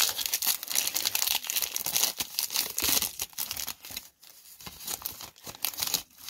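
Old 1990 Topps baseball cards being pried apart from a pack stuck with powdery gum, giving close, irregular crinkling and tearing paper sounds in quick bursts, with no talk.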